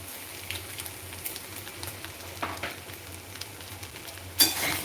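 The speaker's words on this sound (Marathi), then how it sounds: "आता मिरची पण आपण मस्त परतवून घेऊ" Green chillies are sautéed in a pan, a light sizzle broken by scraping stirs and small utensil taps, ending in a sharper clatter near the close.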